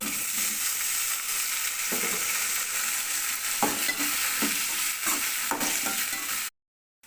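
Garlic and green chillies fry in a pan with a continuous close sizzle and repeated spatula stirs and scrapes, then cut off abruptly into silence near the end; no one speaks.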